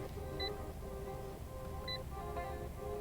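Inside a Fiat Punto 1.3 diesel, the speed warning sounds as short, high electronic beeps, two or three spaced over a few seconds, faint against a steady low cabin drone.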